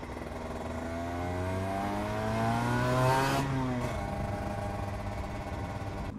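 A Cagiva Mito two-stroke sport motorcycle runs on the road, its buzzy engine note climbing steadily to a peak and then dropping back as the rider eases off, heard continuously from the rider's position.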